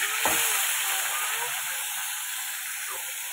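A fish head frying in a pan gives a steady, fairly loud sizzle and hiss, with a brief utensil knock near the start and no voices.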